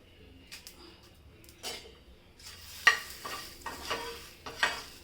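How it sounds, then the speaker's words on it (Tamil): Rasam spices lightly frying in a pan, quiet intermittent sizzles and soft stirring scrapes with a few louder bursts, close and sparse over a low background. "இதெல்லாம் லைட்டாக ஃப்ரை ஆகட்டும்"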